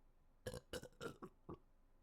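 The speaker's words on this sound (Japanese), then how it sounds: "すごいなんか湿ったゲップが出た。" A wet, gurgling burp from a Japanese VTuber, broken into five quick, close belching pulses in a row, loud against a quiet background.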